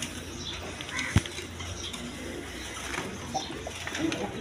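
Pigeons coo softly in a loft among birds kept for sale, with a few low, rounded calls and a sharp knock partway through against a steady background hiss.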